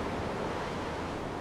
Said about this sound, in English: Enormous waves crash overhead, threatening to pull you under.